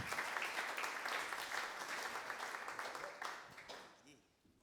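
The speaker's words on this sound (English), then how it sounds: "Give him a round of applause." An audience applauds, a dense wash of clapping that holds steady and then thins out and fades near the end.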